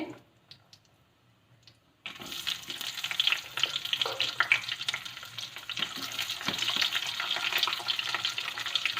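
Thickly chopped onions hit oil where red chillies are frying, and after two quiet seconds a loud, crackling sizzle bursts in and stays close and dense, with scattered spoon clicks over the hiss.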